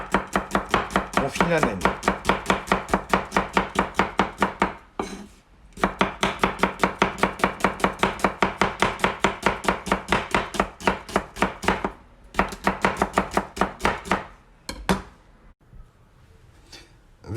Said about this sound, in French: Coupez les oignons